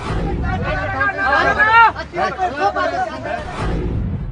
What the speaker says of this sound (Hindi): आग के चारों तरफ गुस्साई भीड़ और भीड़ को काबू करती पुलिस